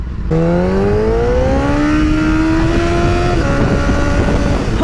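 A motorcycle engine revs up loudly after a brief pause, its pitch climbing steadily as it accelerates, then holding a strong, close roar.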